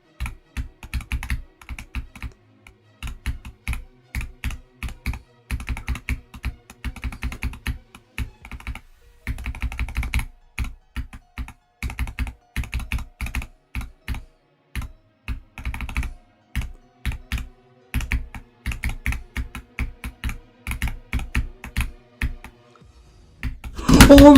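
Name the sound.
typing on a high-end Wooting computer keyboard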